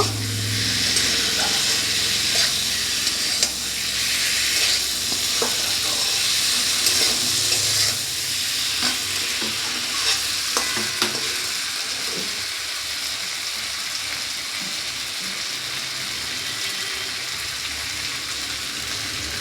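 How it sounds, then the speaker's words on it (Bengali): Potatoes coated in spices are stirred around a hot frying pan, a steady sizzle running throughout with repeated scraping and clinking of the spatula against the pan, loud and close, with no talking. "আলুটাকে মশলার সঙ্গে ভালো করে মিশিয়ে নেব"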